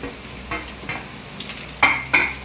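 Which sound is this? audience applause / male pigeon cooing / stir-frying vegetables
stir-frying vegetables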